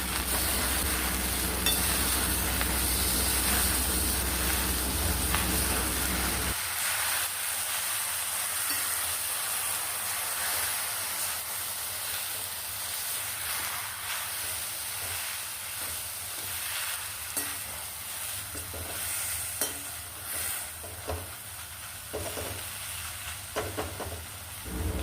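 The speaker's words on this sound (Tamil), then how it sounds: "ஒரு 2 நிமிஷத்துக்கு அது நல்லா பச்சை வாசனை போகிற அளவுக்கு வதக்கிக்கலாம்." Gongura leaves sautéing in a hot pan for Andhra-style gongura thokku, a steady close sizzle and hiss with occasional stirring scrapes, continuing alone throughout with no talk.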